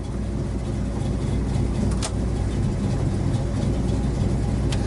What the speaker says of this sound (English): Okay, wipers functioning as they should.